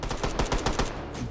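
Rapid automatic gunfire in the VR shooter Hot Dogs, Horseshoes & Hand Grenades, a loud, close burst of about eight quick shots in steady rhythm before it stops.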